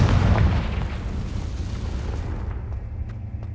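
A Confringo fire spell explodes in the Hogwarts Legacy video game: one loud, heavy boom right at the start that rumbles and fades away over about three seconds.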